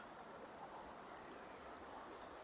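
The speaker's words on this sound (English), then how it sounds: "the water sound is quite deafening" Steady rushing water from Grout Creek near Big Bear Lake, fast-flowing and running high, a continuous broadband roar without pauses.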